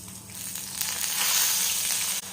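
Shallot paste ground in a mixer sizzles hard in hot oil for mutton pepper masala, a close, steady crackling fry that swells slightly louder before a brief dip near the end.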